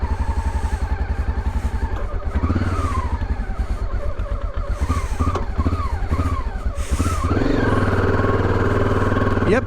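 A Honda XRV750 Africa Twin motorcycle engine runs steadily at a low, lumpy idle close by, with brief swelling revs partway through.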